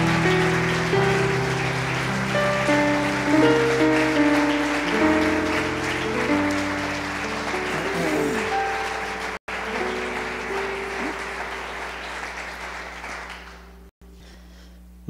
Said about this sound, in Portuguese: Aplauda ao Senhor Jesus, com toda a tua força e com todo o teu coração